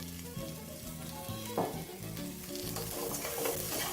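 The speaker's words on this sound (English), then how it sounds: "So all you need to do now is just give that a quick mixture in your pan." Meat stir-fried in a little oil in a pan, a steady close sizzle with scraping stir sounds throughout and a brief louder clatter near the middle.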